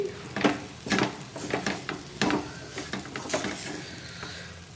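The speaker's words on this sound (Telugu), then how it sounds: "ఇంకో 2 నిమిషాలు ఫ్రై చేసుకుంటే చక్కగా ఫ్రై అయిపోతుంది" Sliced okra with fresh grated coconut fries in a pan, a soft sizzle under periodic close scrapes and stirring strokes of a spatula.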